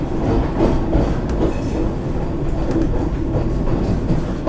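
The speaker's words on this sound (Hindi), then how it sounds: "आप एक्सेलरेशन देखिए फिर से जयपुर स्टेशन का, प्लेटफॉर्म से कितना तगड़ा एक्सेलरेशन है।" A Vande Bharat express train accelerates out of Jaipur station, heard from inside the coach as a loud, steady rumble of wheels and running gear with faint rhythmic clatter, no voices.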